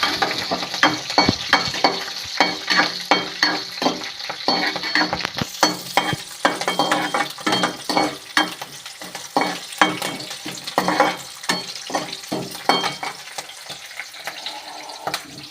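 Chana dal and green chillies sizzle and fry in hot oil as a spoon stirs them with repeated scraping strokes, a steady close crackle while making onion tomato chutney.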